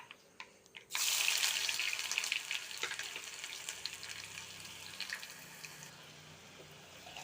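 Hot oil erupts into a loud, sudden sizzle about a second in as crushed ginger, garlic, green chili and shallots join spluttering mustard seeds for a Kerala fish curry. The crackling hiss then slowly fades and settles.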